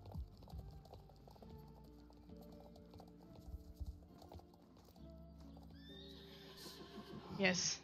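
Horses whinny and neigh in a Halloween event of a horse-riding video game, with hooves clip-clopping throughout and game music beneath; a louder, near whinny comes near the end, while a person talks now and then.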